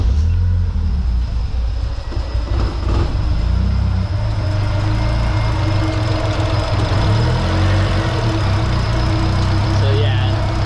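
Nissan CA18DET engine in a 240SX idling rough and lean on the throttle, a loud, steady, uneven rumble with slight knocking throughout, close by with no pauses.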